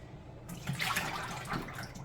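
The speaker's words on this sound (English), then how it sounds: "I'm pouring it out." Whey left from making homemade Greek yogurt is poured out of a container, a close, steady liquid splash and gurgle that rises and falls in waves over about a second and a half, with no talk.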